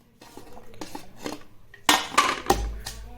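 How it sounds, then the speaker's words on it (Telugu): Garlic cloves are pounded coarsely in a mortar for a dry fish roti chutney, giving a run of sharp knocking thuds that grow heavier and louder toward the end, close and without talk. "ఇది కచ్చా పచ్చగా దంచుకుందాం ఎల్లుల్లిపాయలు"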